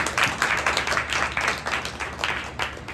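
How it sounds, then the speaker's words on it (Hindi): A church congregation claps hard together after a sermon exhortation, a dense, loud burst of applause with rhythmic peaks lasting the whole stretch, no voices over it. "जोर से ताली बजाओ।"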